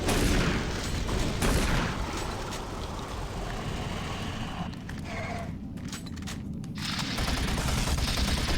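Shotgun and heavy gunfire in the video game Doom 3: BFG Edition, a dense continuous roar of blasts and booms, loud and close, with a brief lull before the firing swells again.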